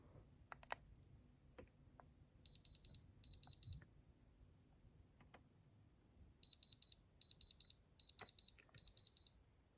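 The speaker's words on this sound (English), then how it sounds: "now that my Supreme diamond tester is warmed up" A Supreme diamond tester gives two short bursts of rapid high-pitched beeps, then a longer run of repeated beep clusters while testing a moissanite bracelet, with faint clicks and handling noise between them.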